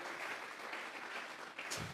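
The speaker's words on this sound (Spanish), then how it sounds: "Vamos a regalarle ofrenda de palmas al Dios de la gloria." A church congregation claps together as an offering of applause during a sermon, a dense, steady wash of many hands close and loud throughout with no one speaking.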